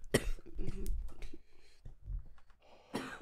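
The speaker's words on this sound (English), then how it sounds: "Sorry for the coughing." Several harsh coughs and throat-clearing bursts, close to the microphone, with short pauses between them and a final sharp cough at the end.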